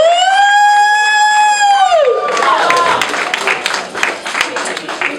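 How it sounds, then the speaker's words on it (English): Party guests break into applause and cheering for a retiree, a dense crowd of clapping hands rising after a held whistle-like tone fades, filling the room at close range with voices mixed in. "Let's get a round of applause for the newly retirement"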